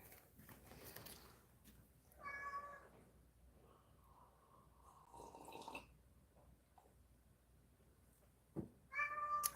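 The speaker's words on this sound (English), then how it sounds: "What are you meowing about?" A cat meows several times, short bright cries with gaps between them, the last two close together near the end, over a quiet background.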